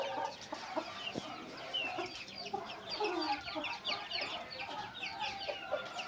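Aseel roosters cluck in dense, overlapping bursts with repeated throaty calls, fairly faint and continuous throughout, with no clear speech.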